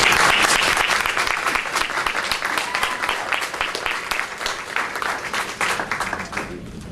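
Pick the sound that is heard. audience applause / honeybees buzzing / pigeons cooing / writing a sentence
audience applause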